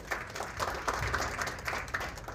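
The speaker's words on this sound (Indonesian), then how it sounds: "Oke, tepuk tangan." A small studio audience at an Indonesian podcast claps briefly, with a soft, scattered patter of hands heard at a moderate distance and no voices over it.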